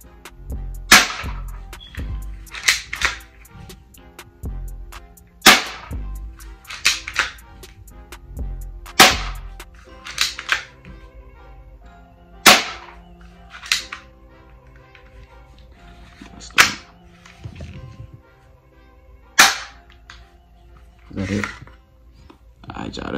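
A Double Eagle M27 BB gun fires about ten sharp, close snaps through cardboard boxes, spaced irregularly a second or more apart, while someone talks between shots.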